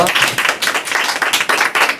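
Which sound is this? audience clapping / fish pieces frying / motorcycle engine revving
audience clapping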